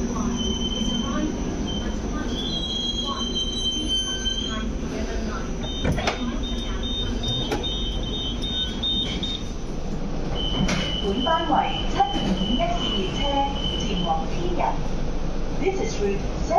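A light rail train on route 751P rumbles into Tin Yat stop in Hong Kong with high metallic wheel squeals and electric whine, while a voice talks over the station noise.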